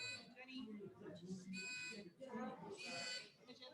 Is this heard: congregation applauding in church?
no